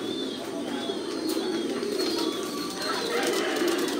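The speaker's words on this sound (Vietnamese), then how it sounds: "đây là cận cảnh những cặp chim bồ câu" Thai Titan pigeons coo in a loft, soft low throaty calls that repeat over a steady background of many birds, with occasional chirps and faint wing flutters.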